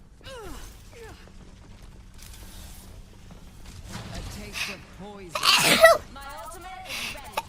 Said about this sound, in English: Oh, I feel like I have to sneeze.